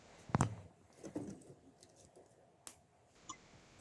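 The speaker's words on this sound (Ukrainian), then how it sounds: "Вже підіймається настрій від легкого запаху горілих дров та їх приємного потріскування." Burning firewood in a Danish home in Jutland gives off sparse, quiet crackles: a sharp cluster of pops at the start, then a few scattered snaps and ticks against a soft background hush.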